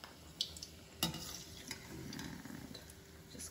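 Cabbage pakoda frying in hot oil, a steady close sizzle and bubbling with a sharp utensil clink near the start as the fritters are turned over, no talk.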